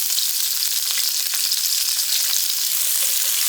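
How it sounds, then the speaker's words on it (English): Red onions and broccoli saute in a hot pan, giving a steady, close sizzle with faint crackles and no voices. "we're going to let these saute down for a few minutes"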